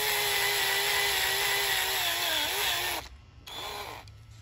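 A hand drill with a 3/16 bit boring through aluminum, a steady high whine that runs continuously for about three seconds, dips briefly, then resumes and winds down, with no talking.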